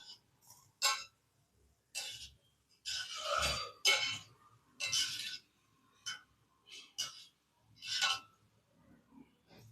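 Kala kala sweet dough made from maida is stirred as it fries in a pan, giving a string of irregular scraping and clinking strokes, some louder than others, with short quiet gaps and no speech.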